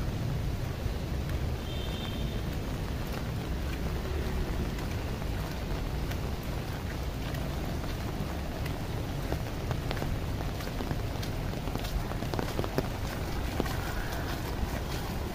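Rain pours steadily across a quiet church courtyard while water runs into a drain, a constant broad wash of hiss and trickle with occasional sharper drip ticks.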